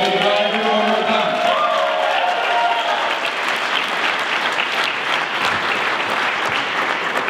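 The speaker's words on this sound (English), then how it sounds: "Let's give you a big round of applause one more time." Wedding reception guests applaud and cheer loudly, a thick, close burst of clapping that rises out of a fading musical tone and keeps going strongly for several seconds, with a few voices mixed in.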